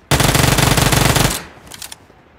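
Rapid automatic gunfire in the battle royale mobile game BGMI, one loud continuous burst of evenly spaced shots lasting just over a second, then a few fainter trailing clicks, with no talk.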